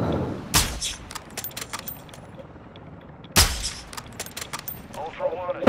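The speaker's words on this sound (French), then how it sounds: "Fais gaffe, t'as un mec qui tire là." Gunfire in a shooter video game: two loud, close shots stand out among scattered fainter shots, with voices talking quietly in between.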